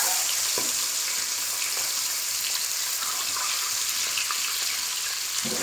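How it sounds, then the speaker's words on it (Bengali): Boiled eggs fry gently in hot oil, a steady close hiss and crackle that holds evenly throughout with a faint knock near the end. "হালকা করে ডিমগুলোকে ভাজবো,"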